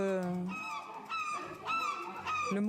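A man imitates a seagull's cry, giving a string of loud, nasal, honking squawks in repeated bursts, close and clear, during a night with police emergency responders in France.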